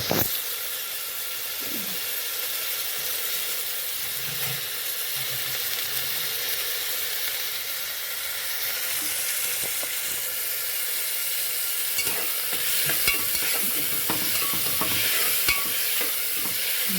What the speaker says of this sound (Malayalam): നമ്മൾ ഇളക്കി യോജിപ്പിക്കുക കേട്ടോ നമ്മൾ നന്നായിട്ട് വഴറ്റുക